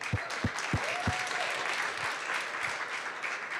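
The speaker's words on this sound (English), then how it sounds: "Why don't we give him a big round of applause to welcome him?" An audience applauds to welcome a guest, a steady patter of many hands clapping at moderate distance, with a few sharper close claps at the start and a faint tone briefly sliding through.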